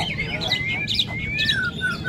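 Magpie-robin (murai) song at a songbird singing contest in Singkil, with rapid bright chirps and whistled phrases repeating close by over a murmuring crowd.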